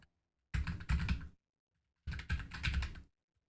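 A computer keyboard clatters in two short, fast bursts of typing, close and crisp, with silence between them.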